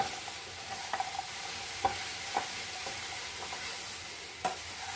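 Okra stir-fry for a Kerala-style vendakka mezhukkupuratti frying in a pan, a steady sizzle with a few soft scrapes and clicks of stirring, close and alone without talk.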